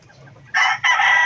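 A chicken gives two loud, harsh squawking calls close by, the second right after the first, following a moment of quiet low clucking.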